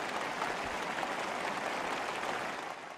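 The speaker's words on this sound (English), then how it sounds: "even the clapping is choreographed" Troops applaud in unison at a Chinese military gathering, a dense, steady wash of many hands clapping at once, sustained and fairly distant, easing off slightly at the end.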